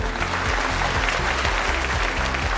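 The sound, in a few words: audience applause welcoming the doctors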